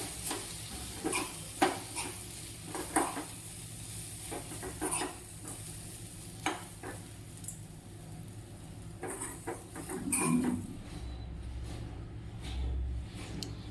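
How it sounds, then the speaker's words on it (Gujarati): A spoon scrapes and stirs Gujarati chili sambharo with flour in a pan over a gas flame, giving soft scattered clinks and scrapes over a faint background sizzle, with a louder clatter near the end. "પછી હું તેને એકદમ બરાબર હલાવી દઈશ અને પછી તમારે ગેસને તરત જ બંધ કરી દેવાનો રહેશે"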